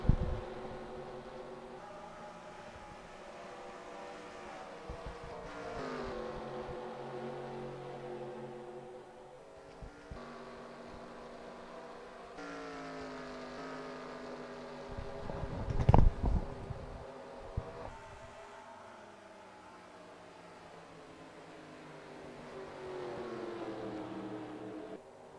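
Stock cars lapping Darlington in the NASCAR Racing 2003 Season sim, a steady layered engine drone with harmonic whine throughout and a brief louder burst midway as cars pass close.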